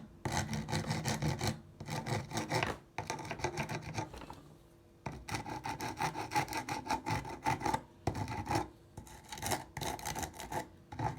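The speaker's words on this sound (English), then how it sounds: "You can just smoothen it out with a file." A hand file rasping over dried quick-set filler on a fifty-year-old Bullworker exerciser, rhythmic back-and-forth strokes in bursts with brief pauses, close and fairly quiet.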